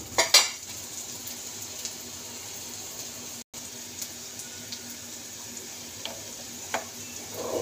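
Onions fry in a pan with a low, steady background sizzle, broken by a few light clinks of a spoon against the cookware.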